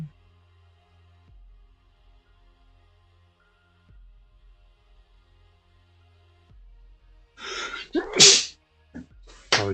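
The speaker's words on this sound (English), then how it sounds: "Apologies, I needed to sneeze." A single loud, sharp sneeze bursts out near the close, preceded by a short in-breath, against otherwise near-silent room tone with faint low hum.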